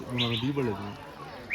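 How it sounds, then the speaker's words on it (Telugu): Birds in a garden on a large English country estate give a couple of brief, high chirps under and just after a man's speech, one near the start and one at the end. "ఆ పక్షుల శబ్దాలు వింటుంటే"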